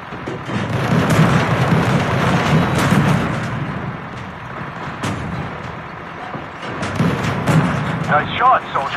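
Tank cannon shots boom and rumble in the tank battle game Tank Company, heavy blasts rolling out over game noise, with voices talking alongside.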